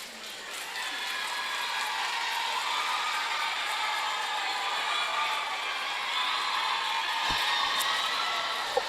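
A school debate audience cheers and applauds steadily for several seconds, a dense wash of claps and whoops from a hall crowd that holds at an even loudness throughout.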